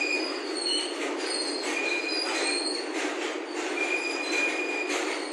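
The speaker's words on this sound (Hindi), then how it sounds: "तो ये मालगाड़ी जा रही है" A freight train runs past on the down line at a busy station platform in Shahjahanpur, heading toward Lucknow. Wheels squeal in steady high tones over a continuous rolling rumble, loud and close, with no voices.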